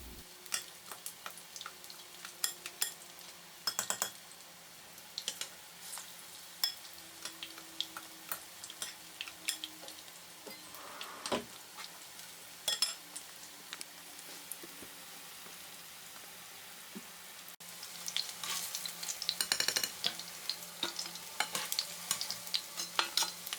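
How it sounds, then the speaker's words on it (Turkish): Steady crackling sizzle of batter-coated chicken frying in hot oil, with scattered pops and occasional clinks of utensils throughout. "ısınmış olan yağımın içerisine tavukları atıyorum ve altın renk alana kadar kızartıyorum."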